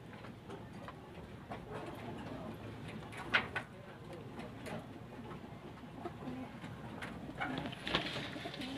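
Pigeons in a loft coo softly and intermittently, with faint wing flutters and small clicks amid a low background hum, moderately distant and quiet throughout.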